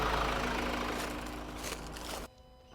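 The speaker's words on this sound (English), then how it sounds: "So now go and turn the vehicle off" A next-gen Ford Ranger engine idles with a steady low rumble for about two seconds, then is switched off and cuts out abruptly, leaving a faint quiet tail.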